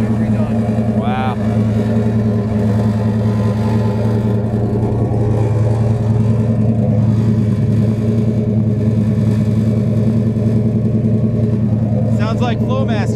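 A restored 1972 Buick Gran Sport idles with a single-chamber race Flowmaster exhaust, a deep, steady, loud rumble that holds for the whole stretch, with brief voices nearby.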